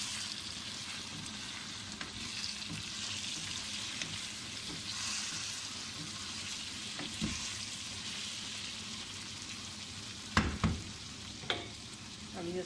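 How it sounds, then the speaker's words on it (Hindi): Green chillies go into a frying turnip dish and get stirred, with a continuous low sizzle under occasional spoon scrapes and a few sharp knocks near the end. "अब इसमें सब्ज़ मिर्चें डालते हैं"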